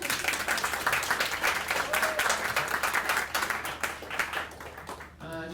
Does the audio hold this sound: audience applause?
yes